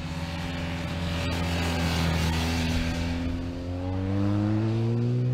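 A BMW R 1250 GS HP motorcycle engine revs loudly and continuously, its pitch rising and falling through the gears, heard close up while riding on the road.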